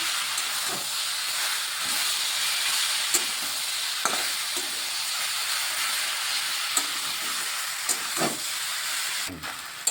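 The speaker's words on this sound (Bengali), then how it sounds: "এই যে শাকটাকে ভালোভাবে ভাজা ভাজা করে নিচ্ছি।" A pan of leafy greens fries with a constant loud sizzling hiss, punctuated by intermittent scraping stirs of a spatula, close up and without talk.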